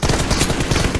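Rapid automatic gunfire from a shooter video game during a team deathmatch battle, a loud, dense burst of shots packed into one second with no pauses.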